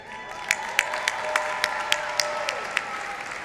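An audience applauds at a university commencement ceremony, with steady crowd clapping and a few sharper claps standing out at a regular beat over a faint background tone.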